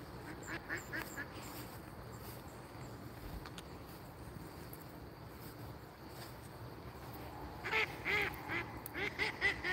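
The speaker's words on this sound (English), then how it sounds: "Those are duck guys swimming in the pond." Ducks quacking on a pond in Jamaica during a late evening walk, scattered honking calls at moderate distance, with a livelier burst of quacks near the end over faint ambient background.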